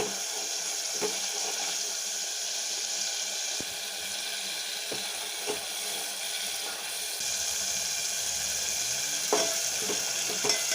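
Masala for lauki kofta curry frying in oil as it is stirred, a soft steady sizzle with occasional faint scrapes and clinks of the spoon.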